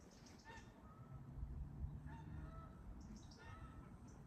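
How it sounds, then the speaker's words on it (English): Faint honking from geese in the distance, a few separate calls spread out over steady low background noise. "I just want to see whether you can hear the geese"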